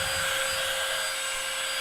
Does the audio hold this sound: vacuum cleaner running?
yes